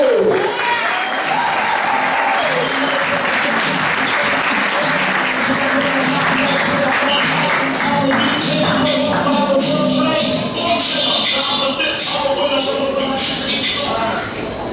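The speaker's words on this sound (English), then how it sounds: "Let's give a huge round of applause to Mr." Sustained, loud audience applause greets a comedian taking the stage at a creative conference event in New York City, with dense clapping and crowd noise filling the room throughout, along with some cheering.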